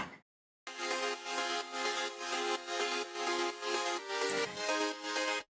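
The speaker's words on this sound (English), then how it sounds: "After that we have chords, some saw chords." Bright, buzzy sawtooth synthesizer chords play in a steady repeating rhythm, each stab sustained and pulsing, loud and alone with no voices.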